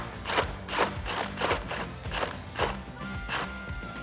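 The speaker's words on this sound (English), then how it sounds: "Taking your T30 Torx bit, remove the bolt above the antenna." A ratchet with a T30 Torx bit clicks in quick repeated bursts while removing a bolt above the antenna on a 2021-2022 Ford Bronco, a close, fairly quiet, rhythmic series of ratcheting strokes.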